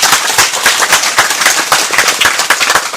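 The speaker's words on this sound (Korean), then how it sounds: "다시 한번 뜨거운 박수를 부탁드립니다" An audience at a company seminar bursts into dense, continuous applause, loud and close, with rapid overlapping claps filling the whole stretch.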